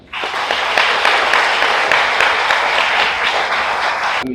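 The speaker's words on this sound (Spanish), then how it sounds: "Un aplauso para él." Sustained applause from a large crowd at an academy investiture ceremony, dense and steady throughout, with no talking over it.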